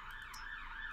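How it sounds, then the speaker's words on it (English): An emergency vehicle siren passes along a main road outside a house, a steady wailing tone sweeping up and down, heard alone at a moderate distance and fairly faint. "I apologise for the siren that's just going past."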